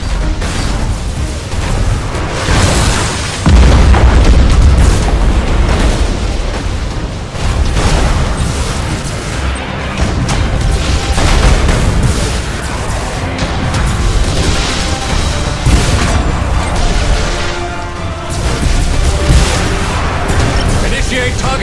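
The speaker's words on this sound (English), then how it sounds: "Main batteries, fire!" Starship main batteries firing in Battlefleet Gothic Armada 2, a dense, continuous barrage of heavy booms and explosive rumbles layered with game music and effects, loud throughout with no pauses.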